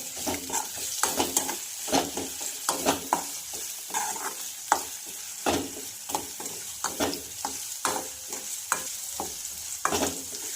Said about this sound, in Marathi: बारीक चॉप केलेला कांदा सुद्धा आपल्याला हलकासा फ्राय करून घ्यायचा आहे